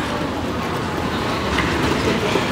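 A train rides the rails in Taiwan, heard from inside as a dense, steady rumble and wheel noise filling the whole span without any talk.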